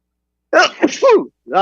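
A single close, sharp sneeze bursts out of silence, followed by a brief voiced sound right after.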